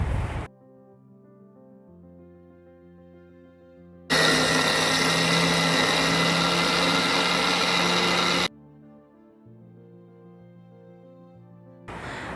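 An electric mixer grinder grinds soaked raw rice with grated coconut into a paste, a loud, steady whirring buzz for about four seconds, with quiet background music before and after.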